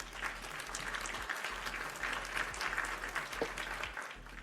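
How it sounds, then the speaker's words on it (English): A round of applause as a sound effect: steady, moderately faint clapping from a crowd that carries on throughout without any talk. "Here's a round of applause for you."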